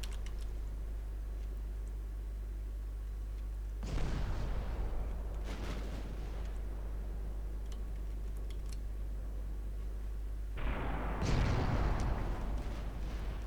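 Naval secondary guns firing high-explosive shells at a light cruiser in Ultimate Admiral Dreadnoughts, heard as two booming salvos several seconds apart over a constant low engine hum, with scattered crackling reports between them.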